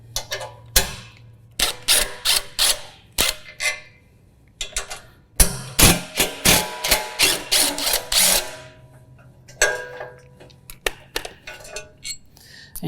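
A 13mm ratchet working bolts free from the hitch of a John Deere Z735M ZTrack mower, close and sharp, with bursts of rapid clicking separated by brief pauses and a few metallic clinks.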